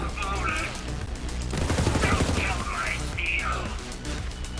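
Rapid bursts of Faisor assault rifle fire in Borderlands 3, loud and dense across the whole stretch, with sharp repeated reports layered over game effects and a voice speaking intermittently.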